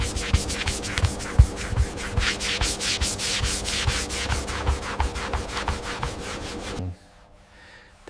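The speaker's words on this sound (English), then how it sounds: "We're gently sanding the British racing green panel now." Steady, close rubbing strokes of sanding across the British racing green body panel of a 1948 Jaguar XK120, continuous and even in rhythm, then stopping abruptly near the end into near silence.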